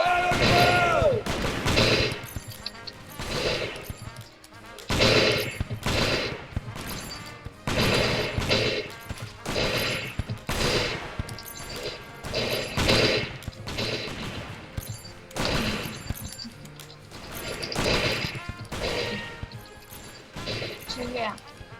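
Musket volleys in the Roblox game Zulu, repeated loud ragged bursts of massed gunfire every couple of seconds, with a shouting voice and game sounds in between.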